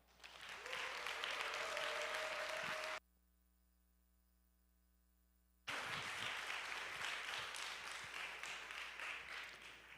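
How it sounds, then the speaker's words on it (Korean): Church congregation at a youth Sunday service applauding and cheering for a visiting missionary, dense loud clapping with voices for about three seconds, a sudden drop to near silence, then the applause resuming and continuing to the end. "우리 박수와 환호성으로 보내주신 하나님께 감사하며 또 선교사님께 격려하도록 하겠습니다"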